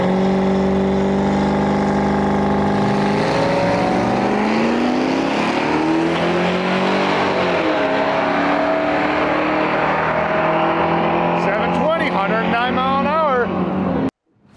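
An LS-swapped 1990 Volkswagen Jetta roars through a drag strip pass, its V8 climbing in pitch through several gear changes, loud and sustained, before cutting off abruptly at the end.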